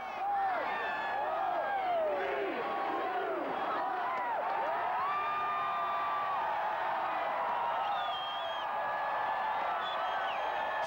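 Dense outdoor crowd at a New Year's countdown party, many voices shouting and cheering together in a steady, loud roar with rising and falling calls throughout.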